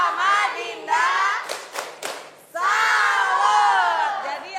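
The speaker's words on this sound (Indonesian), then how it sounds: "kasih tepuk salut" A crowd of schoolchildren at a school digital-learning launch event gives a chanted, clapped salute: loud voices shouting in unison, a few sharp claps in a short pause, then another long sustained group shout.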